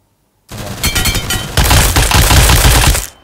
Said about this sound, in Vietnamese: hai khẩu súng máy bé này